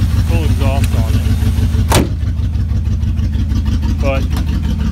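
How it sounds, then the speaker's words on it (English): A 1981 Mercedes 380SL engine idles steadily without its full exhaust fitted, a loud, even, low rumble that continues throughout, with a sharp clunk partway through and someone speaking briefly over it. "to show you the engine running here. And right now, it doesn't have full exhaust on it."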